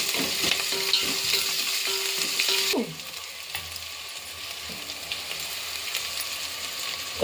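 Carrots fry in a hot pan for Telangana bagara rice, a loud dense sizzle with stirring scrapes that drops suddenly to a quieter simmering crackle partway through.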